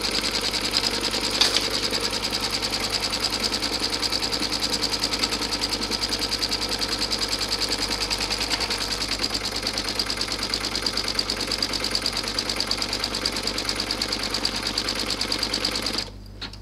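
An embroidery sewing machine stitches a 5x7 fortune cookie purse design in black thread onto medium-weight stabiliser in a hoop, a steady, fast, continuous mechanical whir heard alone and close up until it stops near the end.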